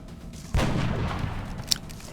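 A loud burst of squad gunfire in XCOM Long War, striking abruptly and trailing off in a long booming decay, with a brief sharp click near the end.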